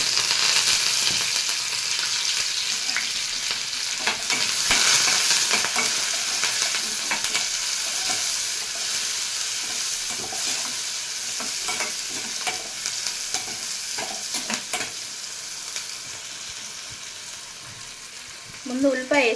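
Onion, chili and curry leaves sizzle steadily in hot oil, with repeated scraping and stirring clatters throughout, close and fairly loud.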